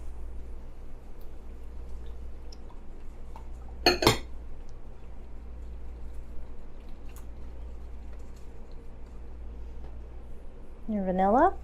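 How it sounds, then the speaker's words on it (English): A spoon mixes sugar into a bread pudding mixture in a bowl, mostly as quiet stirring with a sharp burst of metal clinks in the middle. A short voice sound comes at the end. "Mix in your sugar."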